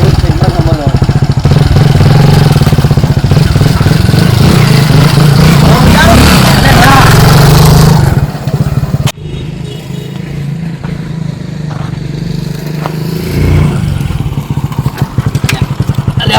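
A motorcycle runs close by, loud steady chugging and rattling for several seconds before dropping to a quieter idle, with people talking over it.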